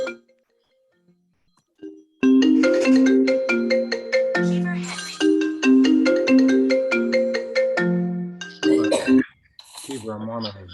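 A mobile phone ringtone goes off during a Zoom meeting: after about two seconds of near silence, a loud, close melodic tune repeats its bright chiming phrase several times, then breaks off into brief clattering noises.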